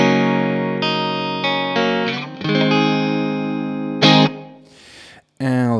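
Clean electric guitar with no effect engaged, bright sustained chords rung out several times with crisp attacks, then a brief gap and a final strummed chord, played close and loud.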